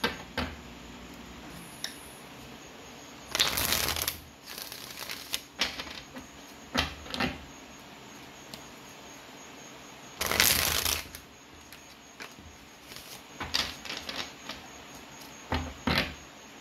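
Tarot cards being shuffled in several short riffling bursts scattered across the stretch, close to the microphone, with quiet handling and tapping in between.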